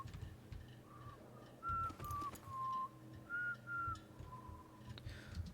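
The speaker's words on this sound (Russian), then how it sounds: "Не свисти" A person whistles a few short tonal notes in a quiet room, a handful of brief separate phrases with pauses between them, fairly close and clear over low background hum.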